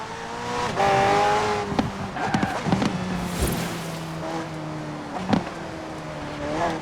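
A McLaren P1 GTR hybrid twin-turbo V8 supercar driven in Forza Horizon 4 revs loud and close, its engine note climbing and dropping through gear changes with brief tyre squeals and harsh bursts.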